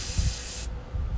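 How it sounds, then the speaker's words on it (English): Spray paint being applied to a tumbler, a short, near hiss that cuts off abruptly partway through. "Spray it, girl."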